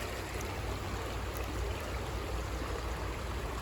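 Steady flowing stream water with continuous splashing and rushing, where a dog is playing in the water during outdoor gold prospecting; a close, even wash of water without pauses or voices.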